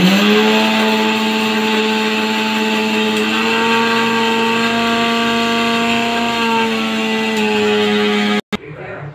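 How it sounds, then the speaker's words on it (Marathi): A mixer grinder blends green chillies, cumin and coriander with a loud, steady motor whine that holds for about eight seconds, then cuts off abruptly. "हे सर्व आपण मिक्सरमध्ये वाटून घेऊया।"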